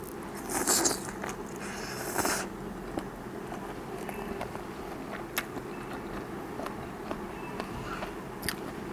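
Someone chews crunchy egg-filled squid close to the mic, with steady crackling bites and crunches over about nine seconds, loudest in a few early bursts.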